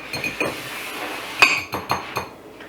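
A utensil stirs dry ingredients and spices together in a bowl for gluten-free quinoa breakfast bars. About seven sharp, close clinks land in an uneven rhythm against the bowl.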